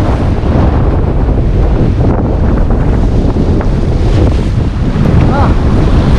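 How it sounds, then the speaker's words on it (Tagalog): Loud, steady wind roaring across the microphone at sea, with rushing water and waves underneath throughout. "Lakas ng hangin."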